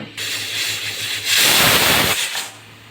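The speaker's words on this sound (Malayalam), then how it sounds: "ചെറിയ രീതിക്ക് ആവി വരാൻ തുടങ്ങി കണ്ടോ." A pressure cooker lets off a soft, steady hiss of escaping steam that swells louder for about a second in the middle, then eases back down.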